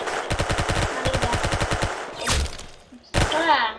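An Uzi submachine gun fires in PUBG in rapid, close bursts, a long stutter of shots followed by a brief pause and then another short burst.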